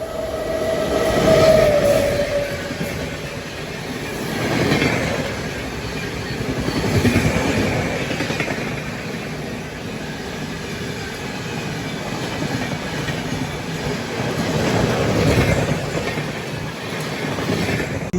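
Krishna Express passenger train running between Adilabad and Tirupati, heard from on board as a steady rumble with rhythmic clickety-clack of wheels and a brief squeal early on, continuous and fairly loud.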